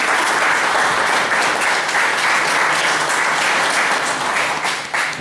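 A council chamber at a town council session in Krobia fills with sustained, dense applause from many hands, loud and even for several seconds before tapering slightly at the end.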